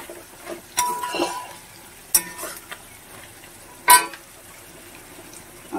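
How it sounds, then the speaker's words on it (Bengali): Pre-fried vegetables stirred into a lightly spiced mix in a pan for a simple boiled vegetable stew, giving a soft sizzle under scattered scraping and clanking strokes, with a few sharp louder knocks from the utensil. "এবার আমি আস্তে আস্তে ভেজে রাখা সমস্ত সবজিগুলো দিয়ে দেব।"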